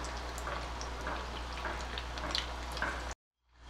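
Undhiyu dumplings frying in hot oil give a steady, close crackling sizzle with scattered pops for about three seconds, then cut off abruptly into silence.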